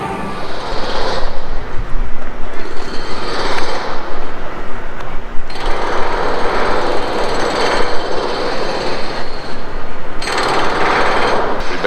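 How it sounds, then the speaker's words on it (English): Loud, steady jackhammering on a bridge pounds away in continuous bursts with brief pauses, a harsh rapid hammering that dominates the whole stretch. "We've been listening to them jackhammer on the bridge all morning"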